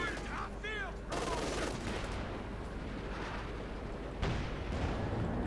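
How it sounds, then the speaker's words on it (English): Battle sounds from the Company of Heroes 2 strategy game, with rattling gunfire and booming artillery bombardment rolling in dense, overlapping bursts at moderate loudness, with a louder impact near the end. "Back out there firing away and a bombardment there."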